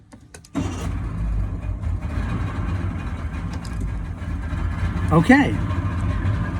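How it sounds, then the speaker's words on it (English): A boat engine catches after several tries and settles into a steady, rumbling idle, with a short high squeal near the end and someone speaking briefly over it. "so as you can see, the engine is started. It took 3 tries."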